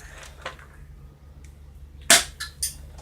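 A BB gun fires a sharp, close crack, followed moments later by a smaller snapping impact against a background of faint room noise.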